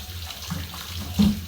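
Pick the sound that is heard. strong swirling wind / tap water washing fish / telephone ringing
tap water washing fish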